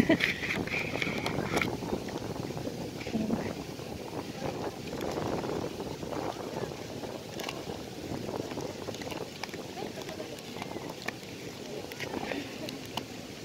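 Gusty wind buffets the microphone with low rumbling noise, while a voice talks faintly underneath at times.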